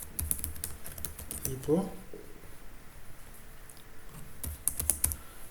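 Keys clatter on a computer keyboard as C# code is typed for a repository pattern in an MVC project, a quick uneven patter of clicks running throughout, with a voice talking over parts of it.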